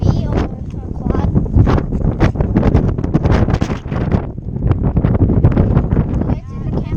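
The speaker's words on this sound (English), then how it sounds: "It's so windy right now." Strong wind on a hill buffets the microphone, giving a constant loud roaring rush with gusts that rise and fall, while voices speak over it.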